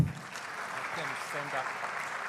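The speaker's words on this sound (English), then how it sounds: "give you a big applause, our 20-track rapporteurs" Audience applause for the track rapporteurs at the ISOCARP 61st World Planning Congress forms a dense, steady clatter filling the hall, while a speaker talks over it.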